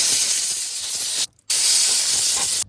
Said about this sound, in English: I am gonna get an air compressor and blow this shit out.